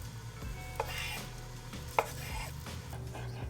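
Knife chopping spicy Italian sausages into small bite-sized pieces on a board, with a few distinct close cuts standing out over soft kitchen background noise.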